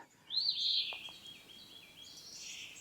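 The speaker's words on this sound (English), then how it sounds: "You can hear the birds." Birds sing outdoors on a summer day, a clear high warbling phrase near the start followed by fainter trailing chirps at moderate distance in an otherwise quiet setting.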